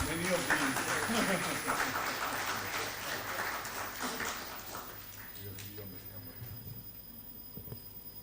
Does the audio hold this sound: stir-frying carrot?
no